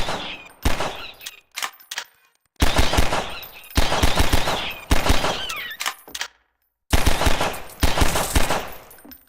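Bursts of automatic gunfire in the Half-Life 2 RTX game, loud and close, firing in rapid clusters separated by short silent pauses, with no talk over the shots.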